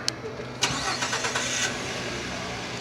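A 2015 Ford F-150 with the 3.5-liter EcoBoost engine starts by remote, giving a brief crank and catch before settling into a steady mid-pitched idle, heard close and fairly quiet.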